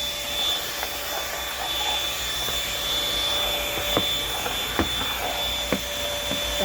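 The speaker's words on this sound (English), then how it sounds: "Vacuuming." A household vacuum cleaner runs steadily while cleaning the front area of a home, giving a continuous rushing drone with a few scattered clicks and knocks as it moves.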